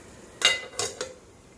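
A metal lid goes onto a pan of spicy garlic pickle with three quick clinks in a row, close and crisp over a faint background hum.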